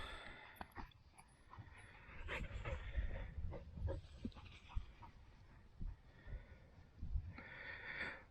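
Dogs let out of a van at a coastal spot sniff and snort close by in short, irregular bursts, with faint outdoor background and occasional soft movement.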